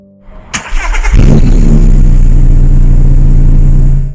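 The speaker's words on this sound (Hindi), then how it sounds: "अपना सामान गाड़ी में रखकर निकलने के लिए गाड़ी स्टार्ट करते हैं" A car engine cranks and catches about a second in, then settles into a loud, steady running rumble close by, with a sharp click just before the start, as the car sets off on a weekend trip.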